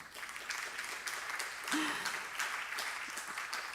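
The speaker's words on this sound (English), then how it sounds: "Applause for you." An audience claps steadily, a dense patter of applause filling the room without pause.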